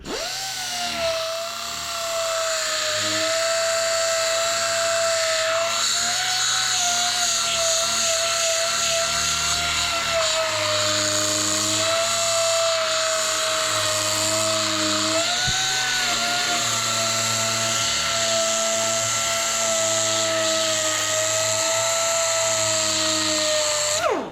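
Power tool spinning steadily to sharpen a John Deere 62D mower deck blade, a loud continuous whine holding pitch for over twenty seconds with slight dips, no talk over it.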